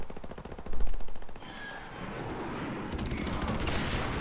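Sustained rattle of automatic gunfire in a shooter game, a dense continuous fusillade after an opening thud, fairly distant and constant.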